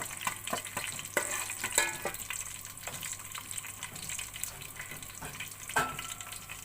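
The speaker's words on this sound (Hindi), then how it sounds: "हल्की आंच में मैं फ्राई कर लूँगी।" Pulao ingredients frying on low heat in a pan, a soft steady sizzle with scattered clicks and stirring knocks throughout, fairly quiet and with no talking.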